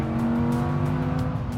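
A Lamborghini-designed 5-litre V10 with an even firing order holds a steady, loud, smooth engine note, close up and without talk.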